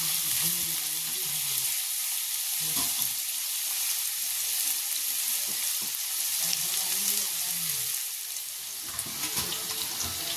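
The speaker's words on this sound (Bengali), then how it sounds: "হালকা উল্টে পাল্টে হালকা করে ভেজে নেব" Cut potatoes fry in hot oil in a pan, giving a steady broadband sizzle across the whole stretch with faint intermittent stirring scrapes; no one talks.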